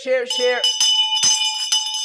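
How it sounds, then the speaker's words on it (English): A small bell rung during a live stream gives several bright, ringing strikes with sustained tones, coming right after a voice and then ringing on alone as the strikes fade. "so many of you tease us about this bell"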